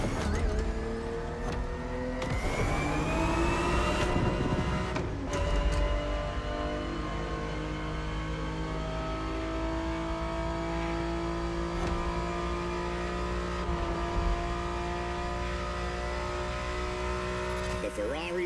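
A 1970s-style Ferrari 365 GTB4 engine drones and revs in The Crew Motorfest, steady and smooth with shifting pitch, while a narrator speaks over the engine for most of the stretch.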